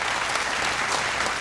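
Audience at a televised vocal competition's top-ten show applauds the guest judge, a dense, steady wash of clapping from a large crowd.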